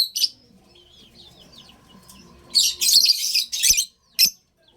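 African lovebirds give sharp, high chirps in short bursts, a few quick calls close by with quiet pauses between them and no talking.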